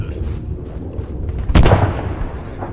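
A stun grenade goes off in a tactical video game: one sharp, loud bang with a short rumbling tail, breaking through a low background of ambient game noise.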